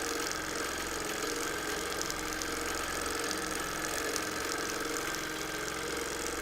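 A sewing machine free-motion quilting a baby quilt runs in a steady, fast, even mechanical whir with rapid stitching chatter throughout, close and continuous, with no voices.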